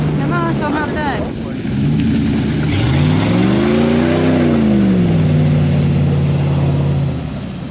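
At a mud running event, a vehicle engine revs loudly nearby, its pitch climbing and then falling over several seconds before settling into a steady drone. Brief sounds at the start may be voices.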